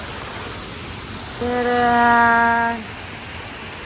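Tagbaugbo Falls waterfall on Samal Island gives a steady rushing roar from start to finish, and a voice briefly calls out midway over the falling water.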